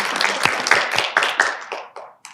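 An audience gives a short round of hand clapping at a university evening event, a quick burst of claps that thins out and stops within a couple of seconds, heard on its own without talk.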